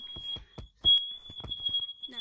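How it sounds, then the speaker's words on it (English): A home smoke alarm emits a sustained piercing tone that cuts in and out, coming through online voice chat in a Gorilla Tag game while several players talk over it. "Whose fire alarm is on?"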